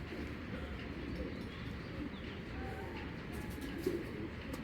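Racing pigeons of a foreign bloodline coo softly and repeatedly against a steady background hum, the low murmuring calls fairly faint and continuous, with no talk over them.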